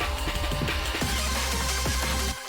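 A dense electronic track with bright synth notes climbing quickly upward over a heavy low bass, cutting off abruptly near the end.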